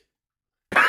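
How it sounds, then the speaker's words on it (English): A single short, harsh cough bursts out close to the microphone after near silence, ending the brief moment abruptly. "Oh no, I coughed."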